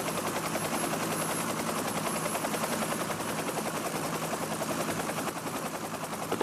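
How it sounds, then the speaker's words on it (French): A rescue helicopter spools up for takeoff at an airport, its rotor and turbine roar steady and loud throughout with a fast rhythmic chop, no voices over it. "L'hélicoptère de secours est prioritaire."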